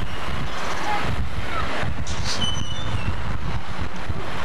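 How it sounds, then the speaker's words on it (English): Strong outdoor wind buffets the microphone in a loud, constant roar with gusty swells, during a summer road trip stop between Florida and Arizona; no talking is heard. "Nice and windy out here."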